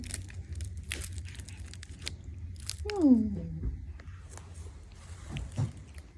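A kitten eating quickly without chewing, brief crunchy bites and smacking close by, with a short high squeak partway through and a soft voice talking around it.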